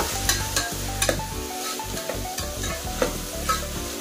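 Finely chopped tomato being stirred while frying in a pan for avarekalu methi bath, with a close, steady sizzle broken by repeated rhythmic scrapes of the spoon against the pan.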